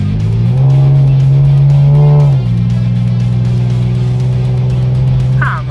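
A Chevrolet Camaro engine roars under hard acceleration, a loud steady revving drone that swells, shifts pitch at a gear change, and keeps pulling close up.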